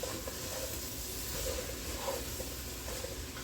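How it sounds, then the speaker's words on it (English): Oxtail stew ingredients sautéing in a pot, a steady broadband hiss with soft crackles running evenly throughout at moderate level, no talking. "So we're gonna saute this for 2 to 3 minutes."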